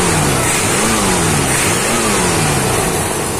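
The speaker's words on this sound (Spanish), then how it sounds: "ahí ya volvió a quedar bien serenito el motor. Lo vamos a acelerar un poco" A Ford Falcon engine, just after a valve adjustment, revs up and down in a few rising and falling sweeps over a loud, close, steady running drone.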